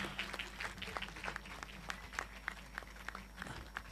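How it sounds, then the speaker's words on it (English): Quiet audience applause at a business quiz event, a thin patter of scattered claps heard from a distance with a low steady hum beneath. "Can we have a round of applause for all of them?"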